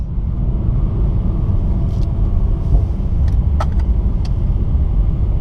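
A Mercedes-AMG E63S launches from a standing start to 60 mph, filling the space with a deep, steady engine rumble heard up close from inside, with no voices.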